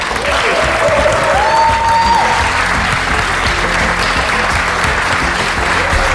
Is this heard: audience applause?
yes